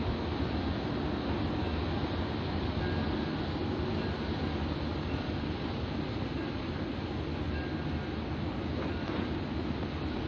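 A steady, dense rumble of an electric train running at speed under overhead power lines on the New Haven Railroad, with constant rushing noise and no change in pace or any voices.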